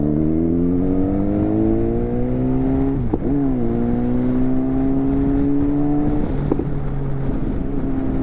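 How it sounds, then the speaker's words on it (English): A BMW S1000XR motorcycle with a straight-pipe exhaust revs and pulls through the gears, its loud engine tone climbing steadily with two brief dips between, steady wind noise underneath. "I can rev my bike very freely over there."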